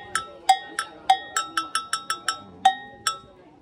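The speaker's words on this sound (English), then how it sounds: "So this metal, we call it gong in English." A traditional metal gong is tapped in a quick, irregular run of about a dozen sharp, ringing strikes, each decaying briefly, close and clear with no talking over it.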